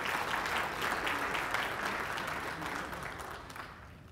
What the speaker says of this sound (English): I hope that's a clap that you're giving yourselves and not me